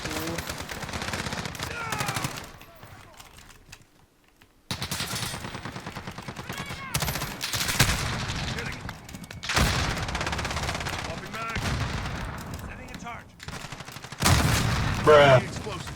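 Bursts of automatic gunfire in Call of Duty: Modern Warfare, repeated rapid volleys separated by brief silent gaps, loud and close, with a voice talking at times between the shots.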